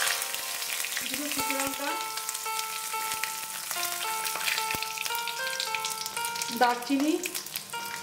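Whole spices, panch phoron, bay leaves, dried red chillies and cinnamon, sizzling in hot oil for mutton curry: a steady close crackle with sharp pops as each spice drops in, while someone speaks over it.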